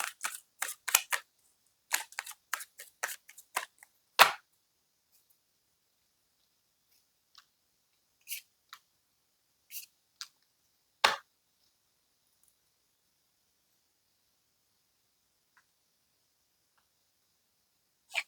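Tarot cards shuffle and snap down in crisp, papery bursts, a quick flurry at first and then sparser single flicks and taps with long quiet gaps between them.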